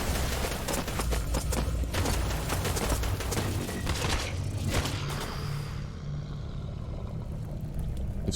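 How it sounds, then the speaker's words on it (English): Chain gun firing in the video game Protos Magos, a dense stream of rapid repeated shots over a rumbling game backdrop, continuous and fairly loud before thinning out toward the end. "Oh, that's a guy with a chain gun right there."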